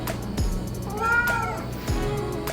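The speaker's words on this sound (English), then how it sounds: "You meowing at me?" A cat meows twice, a short call followed by a longer, drawn-out rising meow, close by in a quiet room.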